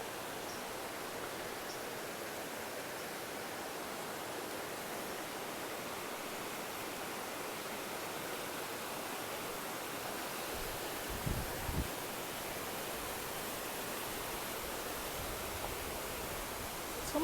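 Water rushes steadily near Laurel Falls, a dense broadband hiss of flowing water that stays even and close throughout, with a couple of faint low thumps near the end and no voices.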